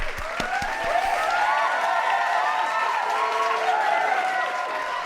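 A podcast studio group gives a round of applause, bright clapping and some cheering running throughout under a sung or spoken melodic voice, moderately loud and continuous.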